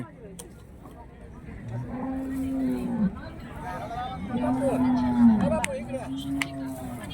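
Cattle and bulls moo in three long, low calls a second or so apart, under a murmur of voices and outdoor bustle at a rural bull market.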